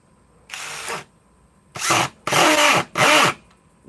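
Ryobi power drill running in four short whirring bursts, the first alone and the last three close together, loud and close with quiet pauses between.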